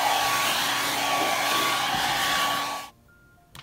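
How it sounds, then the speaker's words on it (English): A hair dryer runs loud and steady while blow drying fine, blunt-cut hair upside down, then cuts off abruptly near the end, leaving near silence and a faint click. "just take the hair dryer and blow dry it upside down again"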